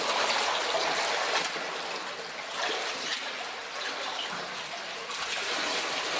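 Water rushes and trickles through a dark, muddy old mine tunnel, a continuous close hiss of flow that dips slightly in the middle and swells again near the end, with no voices.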